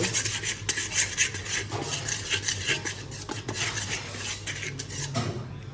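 Flour being stirred and mixed in a bowl for donut dough, a steady scraping and rubbing of utensil against the bowl, continuous and close, with no talking.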